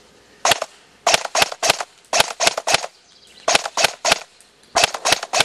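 A Code-8 PTW airsoft gun fires full auto in several short, loud, close bursts of rapid cracking shots separated by brief pauses.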